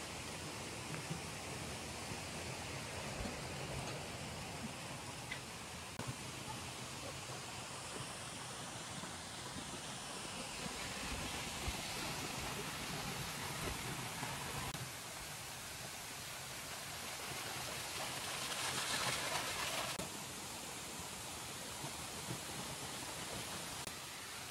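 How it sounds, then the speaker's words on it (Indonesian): Steady, dense rushing of falling water, broadband and constant, from the Sumuran waterfall on the slopes of Mount Telomoyo, Indonesia, heard nearby with no voices over it. "Nah ini air terjunnya itu keren banget, jernih dan juga bersih"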